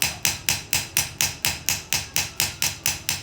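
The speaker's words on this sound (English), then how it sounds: "the back side of the chasing hammer is called the ball peen face, and this is going to give you kind of like a basic hammer texture on your metal" The ball peen face of a chasing hammer strikes metal to texture it, thirteen sharp, evenly spaced taps in a quick steady rhythm, each ringing briefly before the next, close and fairly loud with no talking.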